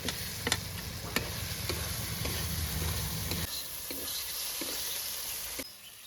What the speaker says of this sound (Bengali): এবার আমি ভেজে রাখা আলুগুলো এর মধ্যে দিয়ে দিচ্ছি।